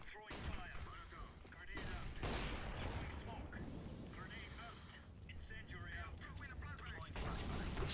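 Grenades burst amid gunfire during a Valorant video game match, with sharp blasts and crackling shots mixed under someone talking throughout.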